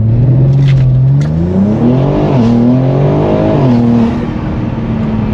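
A BMW G82 M4 fitted with a loud aftermarket exhaust pulls away from a slight launch, its engine note climbing through gear changes with a deep, continuous roar and no one speaking.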